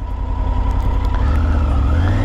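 Triumph Tiger 900 motorcycle engine droning steadily while riding with a little throttle, a close, continuous low hum that lifts slightly in pitch toward the end.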